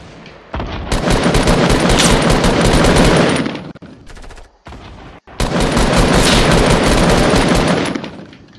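Automatic gunfire in the Fortnite Battle Royale video game: two long, loud, rapid bursts separated by a brief pause with a few scattered shots, then a final drawn-out burst that fades.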